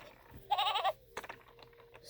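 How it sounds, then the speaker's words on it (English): A See N Say toy gives one short, bright goat bleat, a wavering electronic cry that stands alone against quiet background hiss. "Goat."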